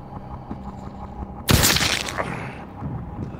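A single loud, close pistol shot fired in the video game The Walking Dead: Saints & Sinners bursts out sharply over quiet background ambience, its crack trailing off into a brief echoing decay.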